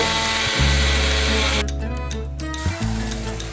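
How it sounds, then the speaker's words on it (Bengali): A kitchen mixer grinder whirs loudly as it grinds mustard seeds, poppy seeds, tender coconut flesh and green chillies with a little coconut water, a steady motor drone that dips briefly twice before spinning back up. "এটা খুব ভালো করে মিক্সিতে বেটে নেব"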